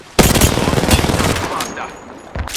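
Apex Legends gunfire rattles out as one loud, close burst of rapid shots that tails off, followed by a short extra blast at the end.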